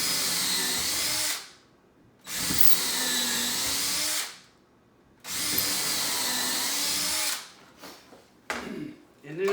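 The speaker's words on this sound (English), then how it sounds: "Pre-drill your hole." A power drill pre-drills holes while base cabinets are installed, whining in three sustained bursts separated by pauses, ending with shorter quick pulses up close.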